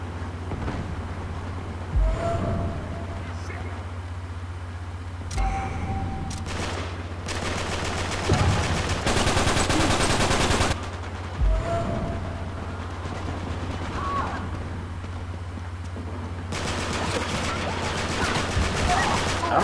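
Gunfire from an Uncharted 3 multiplayer match, with short bursts and a sustained loud volley midway, set over a steady low hum and occasional metallic clanks.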